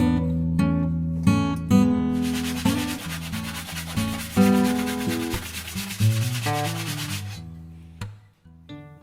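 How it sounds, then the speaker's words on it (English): A belt sander grinds the edges of a DIY control panel mount for a Virpil SharKa-50 sim pit, giving a loud, sustained rubbing drone with a whining motor tone that shifts as the piece is pressed and lifted. "Next was sanding the edges on my trusty little belt sander."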